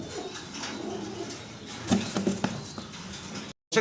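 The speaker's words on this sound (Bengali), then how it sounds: "অ্যান্ডোলোজিয়ান কালারের ভিতরে স্পেশাল সাইজের একজোড়া শোকিং কবুতর ডানে যেটা আমরা দেখতেছি" A pair of Andalusian-coloured shoking pigeons coo softly and repeatedly up close, with a few louder throaty bursts near the middle before a brief cut to silence.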